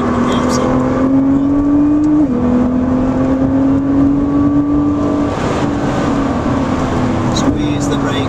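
Nissan GT-R R35 engine droning steadily at close range as the car laps the Oulton Park circuit, pitch climbing and dropping with each gear change, with a voice talking over it.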